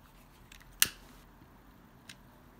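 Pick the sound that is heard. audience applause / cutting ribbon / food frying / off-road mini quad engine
cutting ribbon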